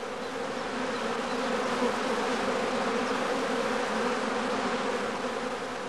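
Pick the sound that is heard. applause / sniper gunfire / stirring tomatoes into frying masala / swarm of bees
swarm of bees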